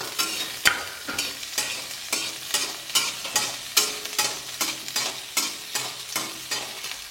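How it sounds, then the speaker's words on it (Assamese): Onions frying with salt and potato in a pan, stirred in a steady rhythm of scraping sizzles about every half second over a constant crackle, close and fairly loud, no voices. "আৰু এইফালে নিমখ আলু আৰু পিঁয়াজটো বঢ়িয়াকৈ ফ্ৰাই হৈ গৈছে"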